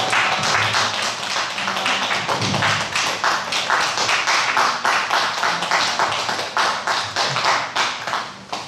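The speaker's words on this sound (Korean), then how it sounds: "자, 박수." A Korean church congregation at a Sunday morning Parents' Day service claps continuously and briskly, a dense close run of hand claps that fades out at the end.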